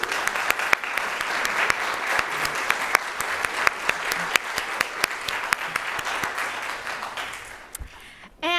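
Audience applause rings out to welcome collector Stuart Rose and his wife, Mimi, at an evening event honoring his rare book collection: steady, dense clapping from a crowd that holds for several seconds before stopping abruptly.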